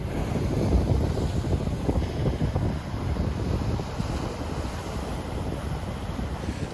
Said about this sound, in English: the wind's picked up all of a sudden